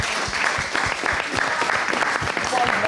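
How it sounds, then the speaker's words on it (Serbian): Studio audience applause on a television talk show: loud, close, rapid clapping that holds steady for a few seconds, with a voice talking over it. "Jedan aplauz za to, stvarno"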